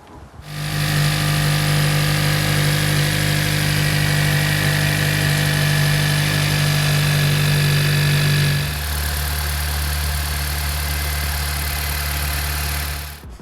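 A Honda Civic engine idles steadily just after an AC compressor replacement, a loud, even hum close by with no talk. Partway through, its pitch and tone shift as the load changes.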